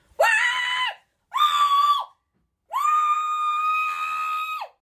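Three high, shrill screams from a human voice imitating a screaming monster plant, two short bursts then one long sustained wail, loud and close with pauses between.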